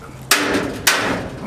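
Two sharp metallic bangs of a hammer striking a freshly welded trailer piece, each ringing briefly before fading, with about half a second between blows.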